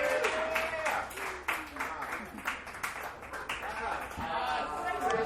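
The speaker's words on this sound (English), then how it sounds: "Another round of applause for Erin Mohr." A small comedy club audience in a dive bar claps for a stand-up comedian, the applause choppy and uneven, with a voice talking over parts of it.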